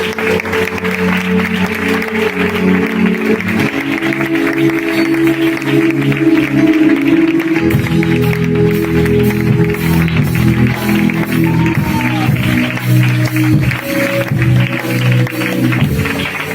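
A church congregation at a Filadelfia service in Barcelona claps steadily and loudly throughout, with sustained musical tones ringing beneath the applause.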